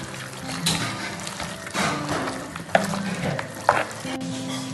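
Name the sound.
stirring masala marinade with curd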